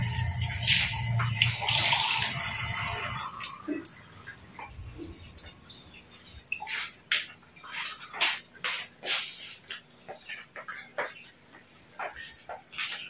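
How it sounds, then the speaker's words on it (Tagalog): Water pours into a cooking pot for tuna pochero in a steady splashing gush lasting about three seconds, followed by quieter scattered clinks and taps of kitchenware. "Lalagyan natin ng tubig."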